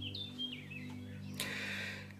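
Birds sing outdoors in the quiet morning, a few bright chirps and trills at moderate distance over a steady low hum, with no talking.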